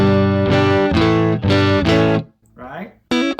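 Electric guitar with console saturation and no reverb, played as a run of loud, close, repeated chords in a steady rhythm, then a short quiet gap with a brief voice before playing resumes.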